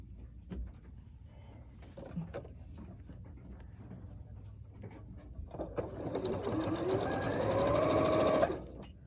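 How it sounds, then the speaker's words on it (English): A sewing machine stitches a quilt fabric seam for sampler blocks, starting faint and building into a steady, close, fast mechanical whir that runs alone for a few seconds before stopping abruptly. "I'm going to fold that down, and I'm going to sew that seam"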